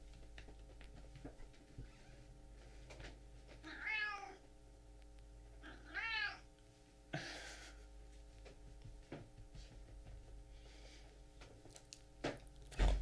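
A house cat meows indoors beside a computer setup, with two clear drawn-out meows a couple of seconds apart and a fainter third call, over a quiet steady electrical hum.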